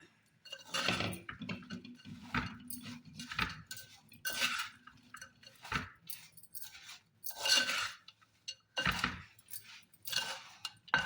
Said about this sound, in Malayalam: ഇതൊക്കെ കൂടി മിക്സ് ആക്കിയിട്ട് അതിലേക്ക് ഈ മാങ്ങയും കൂടി മിക്സാക്കാം